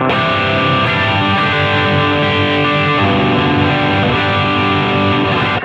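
A sustained, gritty overdriven electric guitar chord through a Strymon Iridium pedal's Vox-style Chime amp model with drive turned up rings continuously, thick and loud, without any pauses.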